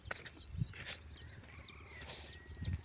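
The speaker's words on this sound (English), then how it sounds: "Oh, the birds, I love their sound." Birds sing faintly around a farm with cattle pasture in the morning: scattered chirps and short whistled calls at a distance over quiet outdoor ambience, with a few soft thumps.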